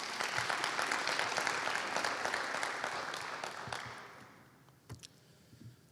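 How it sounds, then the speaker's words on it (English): Audience at a county State of the County address gives a round of applause, dense clapping that gradually fades out, leaving a few scattered claps and a brief knock near the end. "Let's give them another round of applause, please."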